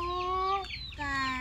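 A chicken gives two drawn-out, tonal clucks in quick succession, close and clear against a quiet rural background.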